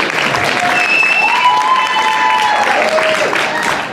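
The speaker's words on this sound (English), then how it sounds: "So let's get a round of applause for Jeremy here." A crowd applauds for Jeremy Kauffman at a Porcupine Day 2021 gathering, with loud, sustained clapping and a few whistles and cheers rising above it, and voices mixed in.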